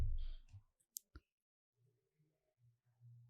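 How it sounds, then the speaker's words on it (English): Quiet mouse clicks on a send icon, with a couple of sharp isolated taps close up amid near silence, followed by faint low murmuring. "click on this send icon"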